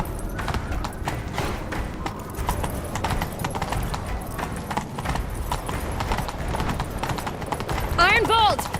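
A horse gallops in The Witcher 3, with steady rapid hoofbeats pounding throughout, mixed with game sounds, and a brief whinny near the end.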